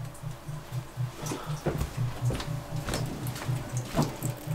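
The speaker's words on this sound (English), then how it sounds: "Oh, the water's on." Water running from a tap in an old house on an island, a steady faint trickle with a pulsing low hum underneath and a few scattered clicks and knocks, with no talking.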